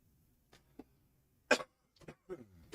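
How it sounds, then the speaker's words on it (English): A foosball tournament commentator coughs once, a short sharp burst close to the mic, among scattered faint clicks and brief murmurs. "Got a little cough."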